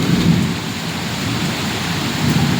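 Steady downpour during a thunderstorm in Bhubaneswar, rain hissing on surfaces while deep thunder rumbles at the start and again near the end, loud and unbroken.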